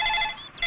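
A telephone rings in a Telugu film comedy scene: two loud, bright electronic ringing bursts separated by a brief gap, with no voices over them.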